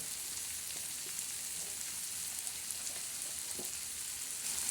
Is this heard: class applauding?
no